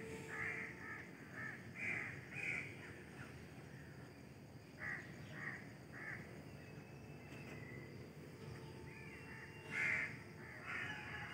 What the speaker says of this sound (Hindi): यहाँ पर तो सिर्फ कवे की आ रही हैं।